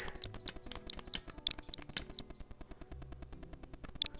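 Rapid keyboard typing sound effects in the video game Dinkum on Nintendo Switch, a steady stream of crisp key clicks over soft background music.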